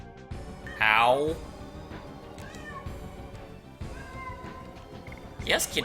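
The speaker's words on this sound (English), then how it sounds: "Yes, Kitty, we all hear you." A house cat meows loudly and insistently several times in short rising cries, close to the microphone, while a person talks over game sounds in the background.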